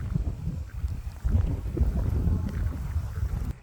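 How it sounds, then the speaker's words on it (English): Wind gusting over an exposed hilltop lookout near a chairlift at The Nut in Stanley, Tasmania, as a steady low rumble buffeting the microphone, strengthening partway through and staying loud. "It's quite windy up here."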